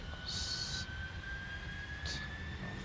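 Boeing 747-400 engines run at takeoff power in the PMDG flight simulator, giving a steady, droning jet roar with high whining tones. Two brief higher-pitched electronic tones sound over the roar.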